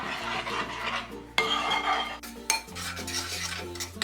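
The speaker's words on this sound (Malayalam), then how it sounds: "ഇതെല്ലാം കൂടിയിട്ട് നല്ലതുപോലെ ഇളക്കി യോജിപ്പിക്കാം" A spoon stirs fresh milk and cream together in a pan for paneer shahi korma, scraping and clinking against the metal in a steady, close, fairly loud rhythm with no talking.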